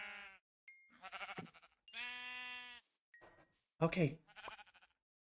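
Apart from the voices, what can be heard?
sheep bleating in the video game Minecraft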